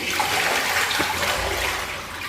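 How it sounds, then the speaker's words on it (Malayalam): A pressed toilet flush tank releases a steady rush of water, loud and close, pouring continuously for a couple of seconds with no voices over it. "ഫ്ലഷ് ടാങ്ക് അപ്പൊ ദേ ഞാൻ അമർത്തുന്നുണ്ട്"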